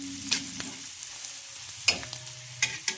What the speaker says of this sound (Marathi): यामध्ये आपल्याला घालायचं आहे हळदी पावडर आणि छान मिक्स करून घ्यायचं आहे।